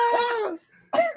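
A person coughs in two short, harsh bursts separated by a brief pause, close and fairly loud, with a wet, throaty quality suggesting a sick person clearing thick phlegm.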